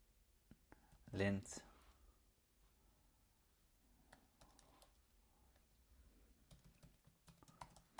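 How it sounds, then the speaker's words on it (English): Quiet typing on a computer keyboard while writing code, a brief burst of rapid keystrokes followed by scattered soft clicks, under a man's low speech. "So we're going to type in import"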